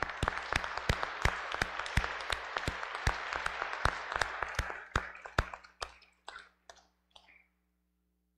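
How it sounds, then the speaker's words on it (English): A church congregation applauds the mothers at the close of a Mother's Day Sunday service, a loud, dense patter of hand claps with sharp individual claps that thins out into a few scattered ones and fades to silence. "Let's give an applause to our mothers."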